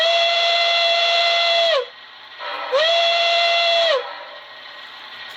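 Two long, clear blasts of a Baldwin single-chime steam whistle ring out from a Soundtraxx Econami DCC decoder, each rising in pitch at the start, holding, and dropping at the end, with a quieter background sound between them.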